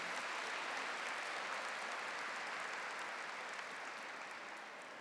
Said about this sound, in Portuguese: Uma salva de palmas para os belos santuários que estão aqui.